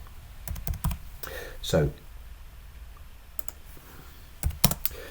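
Quick clusters of keystrokes on a computer keyboard while a note is typed into a customer invoice, close clicking bursts with pauses, and someone speaks briefly.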